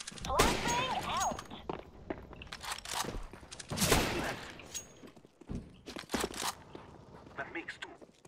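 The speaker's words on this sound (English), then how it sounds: "I'm throwing a flashbang." Flashbang grenade thrown during a CS:GO Danger Zone match: sharp bangs and gunfire bursts scattered among clattering impacts and footsteps, loud and close, with players talking throughout.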